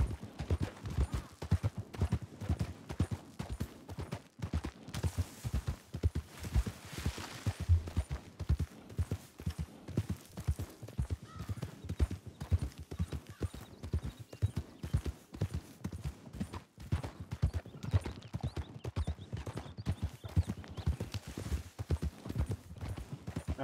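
Horse hooves clip-clopping in Red Dead Redemption II, a long run of rapid rhythmic hoofbeats at a steady trot or gallop, close and prominent, with occasional faint voices.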